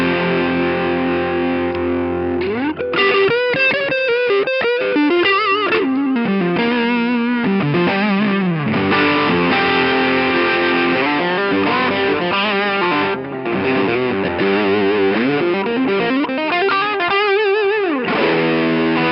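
Electric guitar through a Vertex UltraPhonix overdrive pedal on its Lindley setting, filter at mid position, playing a continuous distorted lead line with bends and fast runs, loud and close, no talking.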